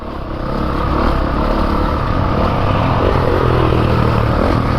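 A Honda CRF450RX dirt bike engine runs at a steady, loud drone that holds for nearly the whole span, with no voices over it.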